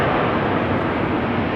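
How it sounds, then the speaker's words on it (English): Jet engines of a Boeing 737, a KLM flight lined up on runway 18 Left at Amsterdam Schiphol, spool up for takeoff, heard as a steady, dense broadband roar that holds level throughout. "Another 737 lined up over here at 18 left, spooling up, ready to go."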